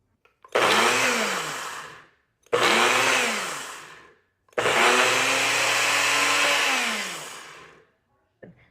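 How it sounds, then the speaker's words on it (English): A NutriBullet blender whirs loudly and close while blending green onions, running in three bursts, two short and one longer, with the motor pitch dipping as the blade loads and falling silent between runs. "So I got it all in my NutriBullet. Let's go ahead and blend it up and see how much we get."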